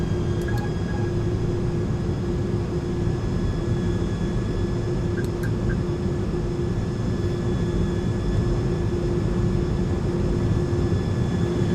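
An iniBuilds A300 airliner arriving in Microsoft Flight Simulator, heard as a steady, loud cockpit drone of jet engines and airflow with constant tonal hums and a few faint clicks.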